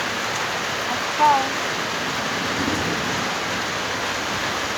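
A rainstorm with a dense, steady hiss of rain and a faint low rumble of thunder, heard close and continuous, while a voice speaks briefly.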